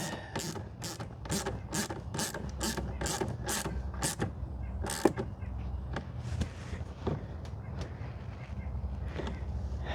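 A ratchet cranks down the bolts on rubber isolation mounts while a Kenwood TM-D710GA radio is installed, producing a rapid series of sharp clicking bursts that slow into sparser, quieter clicks, close and distinct.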